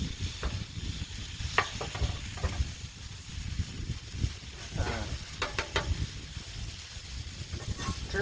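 Chorizo sausage sizzles and browns on a Blackstone griddle, a steady close hiss with scattered crackles and pops and occasional scraping of a spatula.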